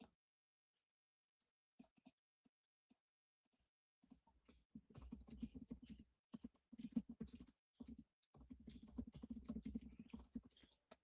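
Rapid, uneven clicking of keys on a computer keyboard, starting with a few sparse taps and building into dense bursts of close, fairly quiet typing with short pauses between runs.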